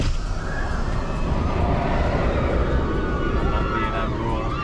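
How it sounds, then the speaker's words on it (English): The Silverstar roller coaster train at Europa Park thunders over a camelback right overhead on its return to the station, a loud, steady, wind-like roar and rumble that fills the whole stretch with no break. "There's the train just going over the top of us there, on its return journey to the station."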